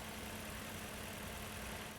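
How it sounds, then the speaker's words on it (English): A Toyota engine idles steadily during a top-end induction cleaning service, giving a continuous low, even hum with no voices. "Stabilize the engine speed and return to idle."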